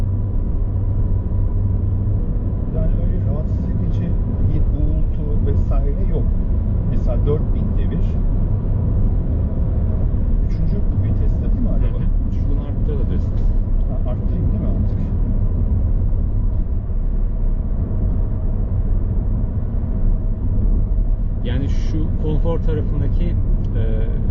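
Steady, loud engine drone heard from inside a car at about 4000 rpm, a constant low rumble with road noise, while a person talks over it.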